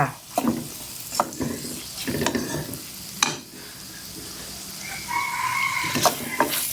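Chinese sausage is stir-fried with green onions in a hot pan, a sizzling crackle broken by repeated spatula scrapes and clanks against the metal, close and moderately loud, with a faint ringing tone toward the end.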